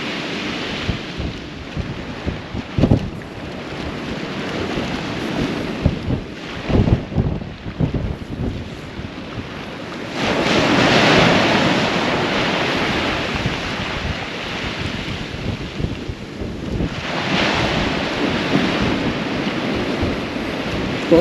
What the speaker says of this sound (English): hopefully I'm masking a lot of this wind out off the camera